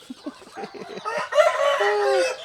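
Rooster crowing among clucking chickens on a Thai poultry farm, with scattered short clucks leading into one loud, drawn-out crow close by.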